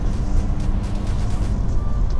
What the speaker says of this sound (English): the engine sounds really good once you get it up into the high rev ranges